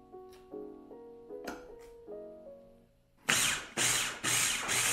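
After a few electronic beeps, a kitchen appliance purees peeled homegrown pumpkin in loud, roaring bursts, three or four pulses close by with short breaks between them.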